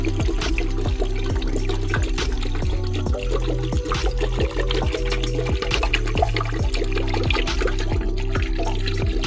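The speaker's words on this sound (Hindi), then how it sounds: "और अब हमने 2 गिलास पानी के डाल देने हैं।" Two glasses of water pour steadily into a pot of desi Aseel chicken curry, a continuous splashing gush with a faint repeating mechanical rhythm underneath, no talking.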